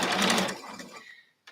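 A sewing machine stitches fabric in a brief close whir that fades and stops, followed by a short click at the end.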